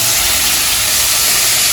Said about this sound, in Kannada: ಟೊಮ್ಯಾಟೊ ಹಾಕಿ ಫ್ರೈ ಮಾಡ್ಕೊಳ್ಳಿ